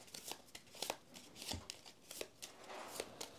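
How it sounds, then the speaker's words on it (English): Board game cards from Aeon Trespass: Odyssey being shuffled into a deck, a run of crisp riffling bursts and soft slaps at close range with no talking. "All right, so I'll shuffle this in."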